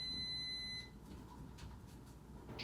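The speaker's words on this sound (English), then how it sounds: "we'll see when the timer goes off here" A kitchen timer sounds after baking a pound cake, giving a steady high electronic beep that holds for under a second and then cuts off, fairly faint against quiet room noise, with no talking.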